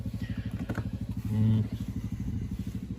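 A motorcycle's electrics click on with a brief rising whir as the ignition key is turned, over a steady rhythmic engine-like chug that runs throughout.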